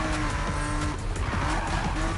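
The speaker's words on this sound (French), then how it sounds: "des fois elle se met à drifter comme ça toute seule dès qu'on est dans un virage" A car skidding through a corner in Need for Speed, with a sustained loud tire squeal over a roaring engine. The sound is continuous, close and dense, with no talk.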